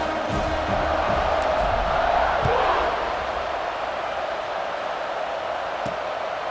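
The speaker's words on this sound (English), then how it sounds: "You think this crowd's going to get loud when their defense comes on the field?" Stadium crowd noise from the EA Sports College Football 26 video game forms a steady, loud roar. It swells slightly around the middle and then settles into a continuous wash.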